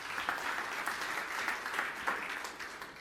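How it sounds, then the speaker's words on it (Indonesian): Church audience applause at a sermon on balanced families, a brief warm round of clapping from a crowd in a hall, moderately loud and steady, then fading slightly. "Tepuk tangan yang meriah untuk kamu."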